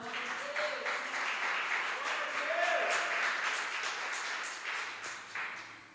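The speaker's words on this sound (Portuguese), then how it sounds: "Pode assentar. As palmas louvam ao Senhor." A church congregation applauds steadily at a Baptist worship service, a dense continuous clapping wash lasting throughout, with a faint voice or tone rising briefly near the middle.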